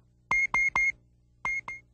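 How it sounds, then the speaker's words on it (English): A smoke alarm sounds five sharp, loud electronic beeps, three in quick succession and then two more after a brief pause, with no other sound. "Listen to hear the sound of a smoke alarm."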